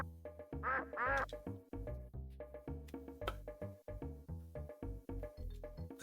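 Synthesized duck quacks from the SNES game Super International Cricket come as a short burst of repeated, nasal electronic calls over a busy game soundtrack with choppy notes.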